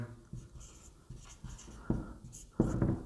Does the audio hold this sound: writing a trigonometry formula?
yes